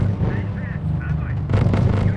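Artillery barrage in the R.U.S.E. strategy game: dense, continuous low rumbling booms with a heavier burst of blasts near the end, overlapping into a steady roar with scattered higher whistling tones.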